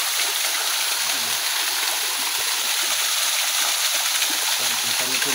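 A waterfall in Calauag, Quezon pours with a loud, constant broadband rush close by, and a voice speaks faintly over the roaring water.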